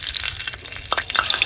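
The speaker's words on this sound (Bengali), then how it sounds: "আর তার সাথে একটু ঘি দিয়ে দিচ্ছি।" Cooking oil and ghee sizzle and fry in a wok, a steady, close crackling hiss with stirring, and no voices.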